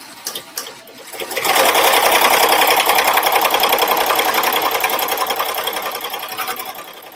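An embroidery machine stitching a decorative border for a Mary Poppins project, loud and close. A few knocks come first, then a steady, rapid mechanical chatter runs on for several seconds, easing slightly toward the end.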